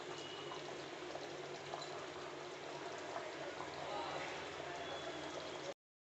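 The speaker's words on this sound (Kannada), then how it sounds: "ಮೀನು ಸಾರು ಕುದೀತಾ ಇದೆ" An Udupi-style fish masala curry simmers in a covered pot, giving a soft, continuous bubbling and hissing that stays faint and steady throughout before a brief cutoff near the end.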